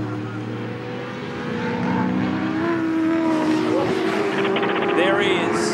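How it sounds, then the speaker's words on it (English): A V8 Supercar at the 2007 Oran Park 400 slows into pit lane, engine drone steady then growing louder with shifting tones and bursts of high-pitched noise, under a commentator's talk. "our race leader, Jamie Whincup, has pulled into pit lane."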